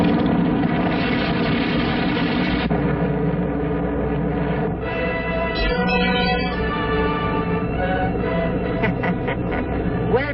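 In an animated Superman film, a giant bomber takes off with a loud, sustained droning engine roar. Its pitch shifts partway through and it builds to a rising whine, with no voices over it.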